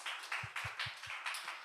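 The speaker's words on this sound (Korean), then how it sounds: "박수 한번 쳐줍시다" A church congregation clapping together during a Saturday service, a short run of about five steady, evenly spaced claps, soft and somewhat distant.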